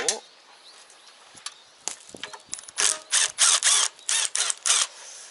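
The negative battery terminal on a key-start cultivator tiller is loosened with a hand tool, giving a series of sharp, close ratcheting clicks in quick bursts after some lighter handling noises.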